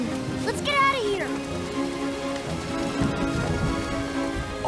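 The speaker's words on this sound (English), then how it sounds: "It's raining." Rain patters steadily on a surface, with a short chirping voice-like sound near the start and a faint mix of background noise.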